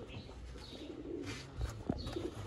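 Sialkoti Jonsra pearl-marked breeder pigeons coo softly at close range, with low murmuring calls and a few brief flutters over a quiet loft background.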